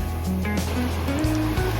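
Sea surf washing onto the beach at Salou, Spain, a steady broadband wash with low rumble, close and continuous, with no one speaking.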